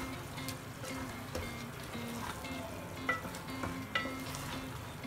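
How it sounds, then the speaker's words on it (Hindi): Minced meat qeema with tomatoes sautéing in oil, a steady close-up sizzle and frying crackle with occasional sharper taps and scrapes of a spoon as it is stirred, no voices. "अब हम इस ऑयल के साथ इसकी अच्छी भुनाई करेंगे"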